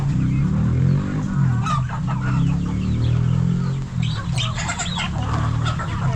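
Chickens cluck and squawk close by, several birds calling over one another in irregular bursts against a low steady background hum.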